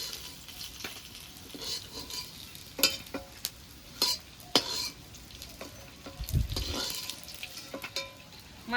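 Rohu fish pieces fry in hot oil, a steady soft sizzle broken by sharp clinks and scrapes of a utensil stirring in the pan, close and fairly quiet with no talking.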